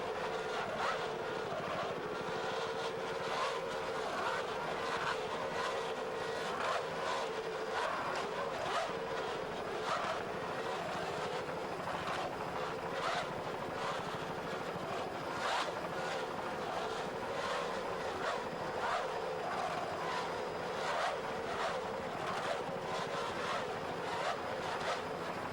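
A 32-foot Skater racing powerboat, the Auto Palace Performance P13, races offshore at Key West with a steady, loud engine roar mixed with wind and water rush throughout.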